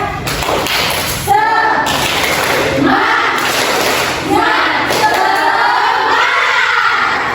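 Schoolchildren in a classroom chant and clap the rhythmic 'tepuk semangat' spirit clap, a loud group of young voices shouting in unison with sharp hand claps in repeating bursts.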